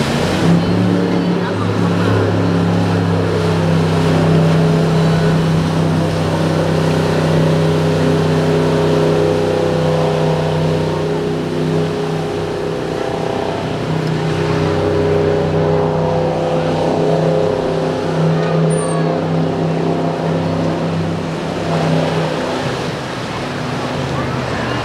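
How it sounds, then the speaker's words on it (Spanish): A speedboat runs past a Myrtle Beach, South Carolina shoreline, its steady engine drone carrying near and continuous with wind and surf underneath. "quiero que vean la lancha de acción, porque este es el mejor lugar para hacer la toma y creo que por ahí viene"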